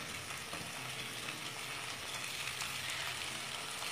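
Tomato chutney sizzles steadily in a pan while a spatula stirs and mashes it, a constant close frying hiss with faint scraping throughout.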